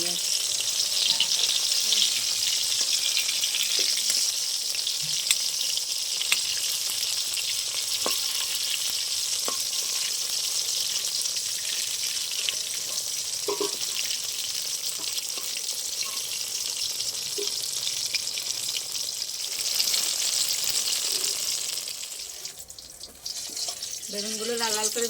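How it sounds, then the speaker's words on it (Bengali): Eggplant slices fry steadily in hot oil, a dense even hiss holding close and loud for a long stretch, with occasional soft clinks of a utensil before the sizzle thins near the end. "বেগুনগুলো লাল লাল করে ভেজে নিয়েছি"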